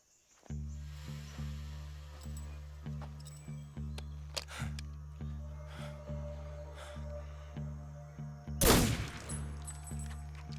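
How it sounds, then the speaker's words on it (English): Gunfire in Metal Gear Solid, with bullets deliberately ricocheted off walls: sharp shots punctuate a steady, pulsing low score, and one loud crashing burst lands near the end. "His favorite little trick, bouncing the bullets off the walls."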